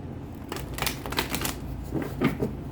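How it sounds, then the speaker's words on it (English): Tarot deck being shuffled up close: a run of quick papery riffles and card slaps with soft clacks, no voices. "You versus them, one more shuffle, Leo."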